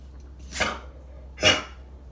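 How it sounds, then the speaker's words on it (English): A dog gives two short, sharp barks about a second apart, close by with a quiet indoor hum underneath and no talking. "I got a bark out of you."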